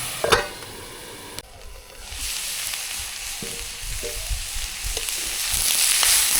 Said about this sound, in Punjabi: ਮੂਲੀਆਂ ਬੱਤੇ ਆਪਣੇ ਚੰਗੀ ਤਰ੍ਹਾਂ ਫਰਾਈ ਹੋ ਗਏ